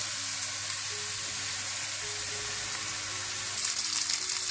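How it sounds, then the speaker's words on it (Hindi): Boiled noodles stir-fry in a pan for vegetarian Hakka noodles, giving a steady, close sizzle and hiss with light scraping as they are tossed, continuous without speech. "इसको भी थोड़ा सा भूनने के बाद आप ये बॉइल्ड नूडल्स डाल दें।"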